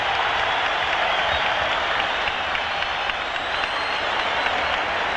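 A 12,000-plus boxing crowd at the Sydney Entertainment Centre roars and applauds at the bell ending round 12, a loud, dense, unbroken wash of cheering that holds steady throughout.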